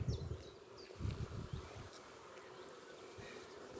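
Honey bees hum faintly around an opened hive in Ireland in May, a low steady buzz with occasional individual bees droning past close by.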